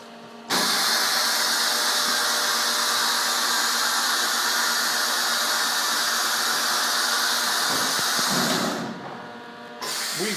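Vacuum chambers of a solar panel laminator running with a loud, steady hissing drone that starts abruptly, holds evenly for several seconds, then drops away before a brief return at the end.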